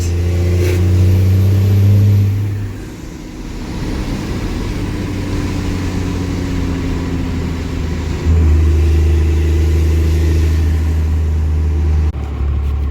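Car engine revving hard through a burnout, with a torque converter locked, holding a loud steady drone that dips briefly then rises to a higher sustained pitch, tires likely spinning under the roar; no talking.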